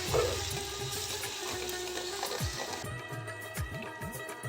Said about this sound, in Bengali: সামান্য জল অবশ্যই দিতে হবে যাতে মশলাটা তলায় লেগে যায় না